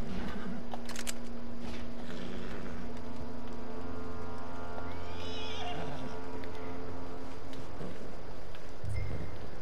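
A horse whinnies in the video game Red Dead Redemption 2, heard near and fairly loud over a steady hum of game ambience, with no talking.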